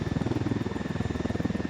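A helicopter in Ghost Recon Wildlands makes a steady, throbbing rotor beat over a constant engine drone. It sounds close and fairly loud, with no voices.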